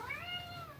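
A single cat meows for its food, one clear drawn-out rising and falling call, moderately faint against quiet room noise at home.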